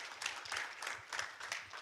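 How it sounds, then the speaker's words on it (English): An audience at a summit breakout session claps briefly, a soft, fairly distant patter of applause at low volume. "Let's give him a nice round of applause."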